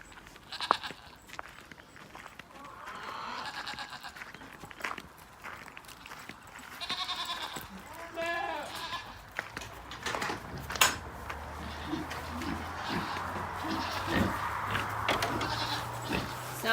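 Dairy milking goats, mothers with kids, bleating in a farm barn: scattered bleats near and far, some clear wavering calls, over a low hum and light shuffling, without speech.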